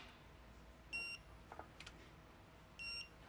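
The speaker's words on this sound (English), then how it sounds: "We got some red lights and some beeping going on with this tool." A digital torque wrench gives two short electronic beep bursts roughly two seconds apart as it reaches torque while tightening the drain plug during an oil change on a 2026 Hyundai Tucson, with faint clicks between them.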